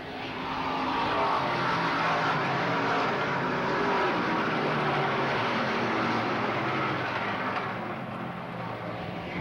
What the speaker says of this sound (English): Johnny Hafer, he immediately tramps on the gas, so does Steve Zeiters, along with Phil Miller and Jerry Inch.